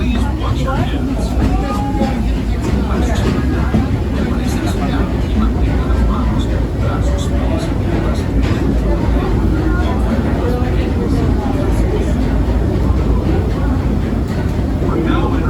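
Disneyland Railroad train ride, a steady loud rumble of the moving train with clatter throughout, under continuous narration and talk.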